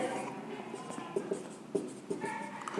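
Pen or chalk scratches and taps while a matrix determinant is written out, light strokes with soft clicks at intervals, close by under a faint background hum.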